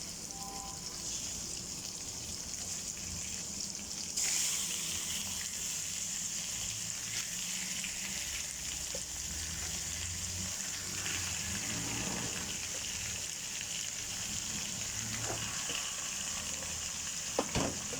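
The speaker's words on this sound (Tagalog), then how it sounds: "Lagay na natin ang ating isda." Fish dropped into a simmering pot of sinigang broth, a steady soft bubbling and sizzling hiss that runs throughout, with a faint splash near the start and scattered small clinks.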